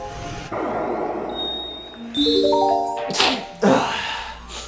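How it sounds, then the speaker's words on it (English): A single sharp sneeze bursts out over a background hum, with a brief gasping intake just before and a second forceful burst right after. "Sorry, I had to sneeze."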